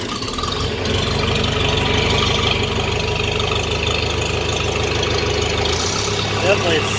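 A John Deere 3020 gas tractor engine runs close by after a new choke cable and an ether injector, a loud, steady chugging idle with a faint rhythmic knock that drops to a lower tone near the end.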